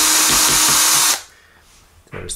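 Electric drill with a bit running loudly and steadily to back screws out of a broken PC laptop, whirring for about a second before stopping, followed by a brief quiet gap and another short burst.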